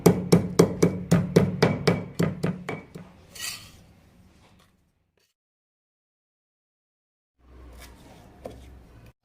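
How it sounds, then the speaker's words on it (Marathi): Roasted green chillies crushed in a home kitchen for a village-style dodka (ridge gourd) dish: a run of about a dozen sharp, evenly spaced pounding knocks, loud and close, then a scrape and silence, with faint handling noise near the end. "हिरव्या मिरच्याला असं ठेचायचं आहे आपल्याला फक्त."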